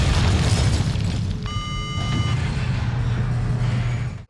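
In Resident Evil 4 (2005), a rocket launcher explosion lands as a heavy, rumbling boom with a sustained low roar and a brief ringing tone, fading out over a few seconds.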